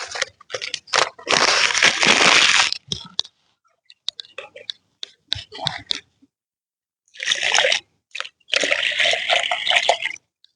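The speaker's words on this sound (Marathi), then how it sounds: "आता आपण पाण्यात त्याला विरघळून घेऊया" Thirty grams of turmeric powder is dissolved in water for a crop spray pump, with two long bursts of close, rustling liquid noise and scattered clicks between them.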